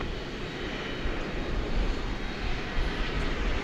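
American 1207 takes off from runway 18 left at DFW Airport at night, a steady broad jet roar building slightly in loudness over a few seconds, heard from some distance without talk.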